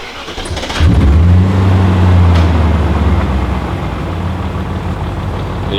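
A BMW E39 M5 with the S62 V8 runs steadily after starting, a deep, loud, close engine note with a slight mechanical Vanos rattle layered over the idle, no talking.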